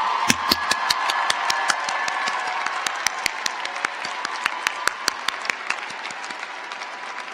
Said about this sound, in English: please let us all give a round of applause to those who held your hand to cross this street